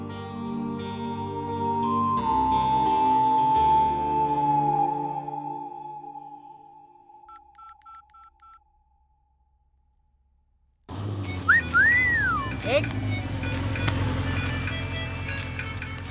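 A phone rings with a melodic electronic ringtone, followed by a few soft, evenly spaced beeps, then a pause and a burst of busy background noise.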